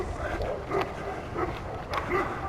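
A dog met on a walk barks in short, repeated bursts at a moderate distance, several evenly spaced barks over a low outdoor rumble.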